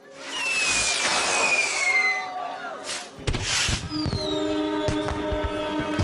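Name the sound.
fireworks show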